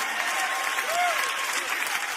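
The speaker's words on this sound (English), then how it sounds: "Are y'all clapping to be polite?" A church congregation claps steadily throughout a sermon, a dense, even wash of applause from many hands filling the room with no break.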